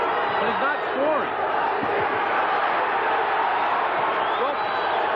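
Boxing crowd cheering for Cruz during the Johnny Tapia vs Cruz fight: a steady, dense arena roar that holds at full volume throughout, with shouts and whistles rising out of the mass of noise.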